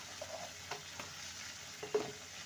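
Spices with garam masala, sugar and Kashmiri chilli powder being sautéed for a vegetarian potol and moong dal curry, a faint, steady sizzle with a few soft stirring scrapes and no voices.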